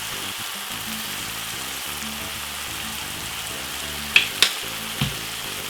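Vegetables and salt fish cook with ketchup in a covered pan, a soft steady sizzle under a lid, with a low rhythmic background hum and a few sharp clinks near the end.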